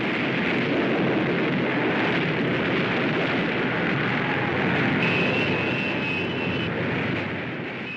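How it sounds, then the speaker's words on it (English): Massed bomber planes flying in over the White Cliffs of Dover toward a city centre in the film Things to Come, heard as a dense, steady roar of aircraft engines with rumbling blasts, loud and continuous throughout. "you get this sequence of the massed planes coming over the White Cliffs of Dover, unloading on the city centre"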